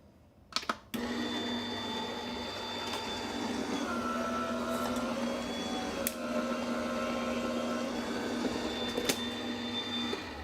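A die cutting machine pressing paper, starting with a couple of clicks before a steady motor hum sets in and holds evenly to the end, close and moderately loud.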